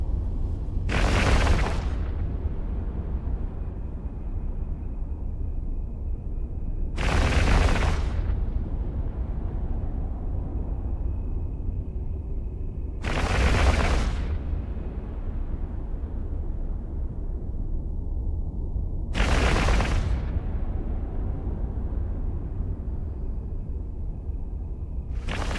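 Ship weapons firing in the space game EVE Online on a Svipul, four heavy booming blasts spaced several seconds apart, each with a sharp onset over a constant low rumbling drone.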